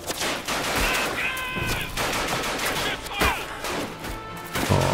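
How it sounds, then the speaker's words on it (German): Sustained gunfire and bursts of shooting in the war video game Ad Infinitum, loud and close, with overlapping shots and crashes filling the whole clip. "die anderen ballern und schießen und bekämpfen"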